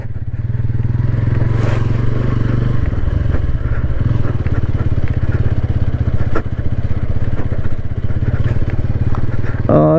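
A Bajaj Pulsar N150 motorcycle climbs an off-road dirt track in second gear, with a loud, close, continuous engine drone, rattles and a few thumps from the rough ground, and a rider's voice at times.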